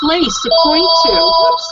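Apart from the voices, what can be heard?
telephone ringing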